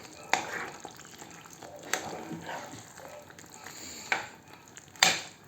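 Sulphur shelf mushrooms stewing in sour cream in a pan are stirred, giving several distinct scraping strokes over a low, constant sizzle close by.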